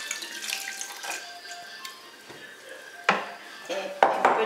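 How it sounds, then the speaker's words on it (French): Water poured into a cooking pot while making Cameroonian eru. Close splashing and trickling mix with clinks of pots and utensils, ending in a few sharp knocks. "je vais ajouter un peu d'eau"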